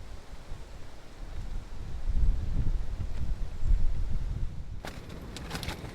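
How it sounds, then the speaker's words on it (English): Strong wind buffets the microphone at an outdoor campsite beside a shower tent, a low rumbling roar that swells and eases, then gives way to a few sharp rustles and knocks near the end. "It's pretty windy, so again, not the ideal situation."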